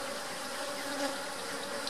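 Honey bees buzzing around an open hive during an inspection after a hive split, a steady close drone of many wings with no pauses.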